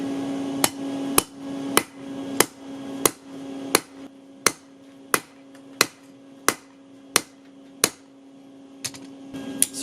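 A hammer forging a knife from a piece of steel rebar rings out in about fifteen sharp metallic strikes at a steady, roughly half-second rhythm. The blows are loud and close, each leaving a brief ringing tail, and no one speaks.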